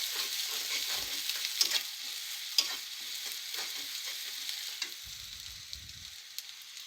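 Chopped onion and dried red chilies fry in hot oil in a pan, a steady close sizzle with a few soft clicks and stirring scrapes, fading slightly toward the end.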